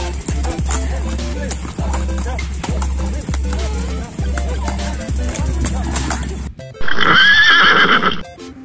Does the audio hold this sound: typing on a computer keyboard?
no